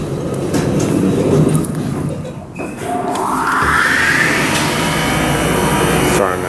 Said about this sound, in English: I think that might be the machine.